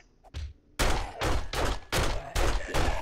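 Rapid, loud gunshots from the survival video game 7 Days To Die at a gas station, a couple of quick shots followed by a steady run of six heavy booming reports, close and evenly spaced with brief gaps.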